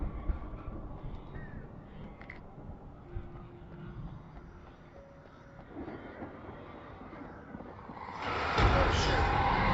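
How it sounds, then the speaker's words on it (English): Crows cawing in the video game Alan Wake, scattered calls over a rumbling, rattling ambient bed that swells into a loud noisy rush near the end. "Those crows freak me out."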